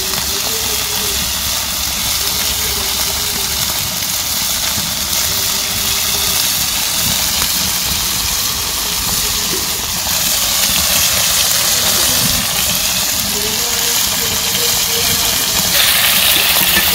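A cooking stove burns outdoors at a village cooking spot, giving a steady, unbroken roar that holds at an even level for the whole stretch, with no talking.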